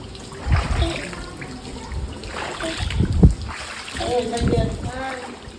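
Water sloshes and splashes underfoot while walking through shallow puddles in light drizzling rain, in uneven steps with people talking throughout.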